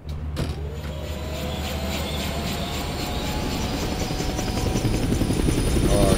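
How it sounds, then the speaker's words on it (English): A helicopter in the video game Dead Rising Deluxe Remaster gives off a loud, steady rotor and engine roar that builds gradually over about six seconds, close and continuous with no talk. "So I guess he parked his helicopter on the roof somewhere."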